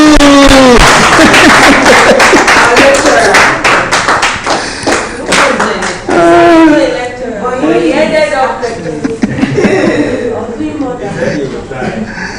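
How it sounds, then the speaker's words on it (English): Conference audience clapping for a speaker, a dense burst of loud close claps over several seconds that thins out as voices and laughter take over near the end. "Clap for me!"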